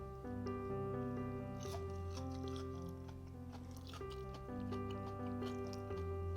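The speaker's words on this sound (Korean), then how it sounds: "제가 한번 먹어볼게요" Crisp crunching bites and chewing of a breadcrumb-coated Korean kimchi pancake, close up, in short bursts over steady background music.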